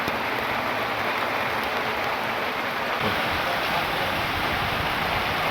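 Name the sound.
heavy rain falling on a forest campsite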